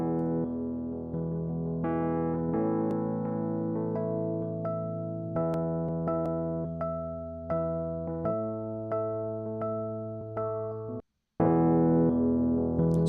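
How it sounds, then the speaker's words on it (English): Unprocessed Fender Rhodes electric piano playing a steady sequence of mellow, bell-like chords and notes. Each strike decays smoothly, with one short silent gap near the end and no talking. "So we've got somebody that played a Fender Rhodes, and it sounds like this unprocessed."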